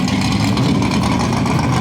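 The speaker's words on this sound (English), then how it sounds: "I think he might have had some exhaust cutout systems too." Loud, steady car engine rumble at a moving car show, a vehicle fitted with an exhaust cutout running open and revving continuously, close by and dense throughout with no pauses.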